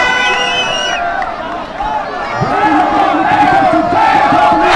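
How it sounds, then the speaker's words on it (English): A large cricket crowd at a T20 knockout final in Magam roars and chants in a dense, loud mass, with a pulsing beat of drums from the stand underneath the swelling cheers. "having lots of drums being played in that crowd there"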